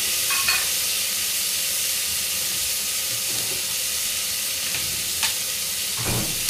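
Diced potatoes sautéing over low gas in a pan for a prawn rice dish, a steady close hiss and sizzle with occasional scrapes and clinks of stirring, no voices.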